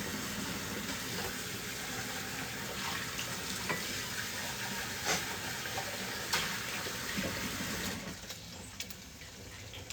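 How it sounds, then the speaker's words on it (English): Tap water runs steadily into a kitchen sink while a pan is rinsed and hands are washed, a continuous splashing hiss with a few clinks, easing off near the end. "I'm just going to give my pan just a quick rinse before I put the milk in. And while I'm doing that, I'm going to wash my hands"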